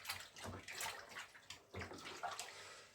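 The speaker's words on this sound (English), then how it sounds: "topping it right up with cold water." Cold water poured from a tap into a home brew fermenter to top it up, a close splashing and gushing that surges in uneven bursts.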